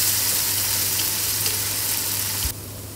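Garlic ginger paste frying with onion in a pan for a goat liver (kaleji) curry gives a steady, close hiss of sizzling that cuts off sharply near the end.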